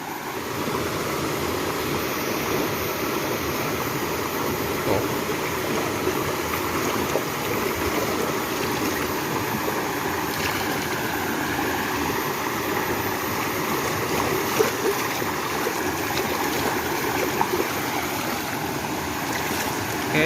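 A waterproofed Kyosho Mini-Z 4x4 Jimny Sierra RC car runs through a river, its splashing buried in a steady, loud rush of flowing stream water that continues unbroken throughout.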